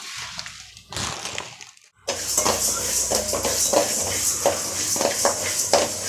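Mustard seeds roast in a hot pan while a sambar powder is prepared: after a short pause comes a dense, continuous crackle of tiny pops and scraping against the metal, steady and close.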